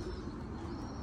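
Pigeons coo softly in a loft of newly arrived birds, a faint, low, steady cooing under a constant background hiss with no talking.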